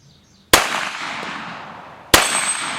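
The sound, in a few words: gunshots from a Glock 41 pistol in .45 ACP hitting steel targets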